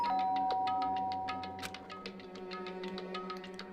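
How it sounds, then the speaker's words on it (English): A doorbell chimes in the video game Danganronpa: Trigger Happy Havoc, a bright ringing tone followed by a rapid series of tinkling electronic notes over a steady background hum. "pressed the doorbell"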